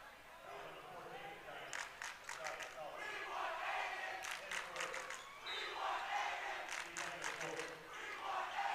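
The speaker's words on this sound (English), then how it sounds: "Students right now cheering and yelling for the one of the student managers to get in." Students cheer and yell in the stands at a varsity basketball game, bursts of shrill shouting and whoops rising and falling over a constant gym crowd din, loud and close.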